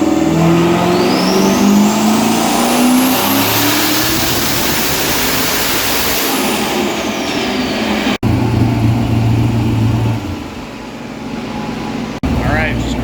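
A twin-turbo C6 Corvette Z06 running E85 at just over 12 psi of boost roars through a rising full-throttle dyno pull, loud and close, then drops to a quieter idle as a voice speaks.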